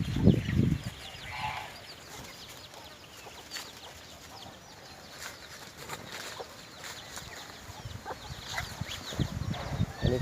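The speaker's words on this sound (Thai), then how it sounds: "อันนี้คือลูกลูกเป็ดเทศลูกเป็ดกาบานเฮ้านะครับ" Muscovy ducklings peep in a farmyard among clucking fowl: a mix of thin, high calls and lower barnyard cackles, fairly close and loudest at the start and end, with no talk.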